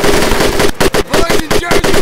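In the Medal of Honor Pacific Assault video game, an automatic weapon fires in rapid, loud, evenly spaced bursts of shots, close and dominant throughout.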